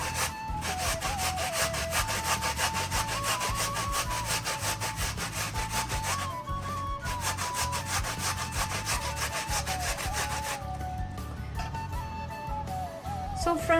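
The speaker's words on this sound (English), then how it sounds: "so you just have to grate this." Soaked lentils for Nepali masyaura are rubbed across the medium face of a hand grater, a steady run of rhythmic rasping strokes heard close and alone.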